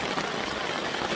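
Steady rain drumming on a camping tarp at a Florida family campsite, a dense, even patter of countless drops close overhead with no pauses.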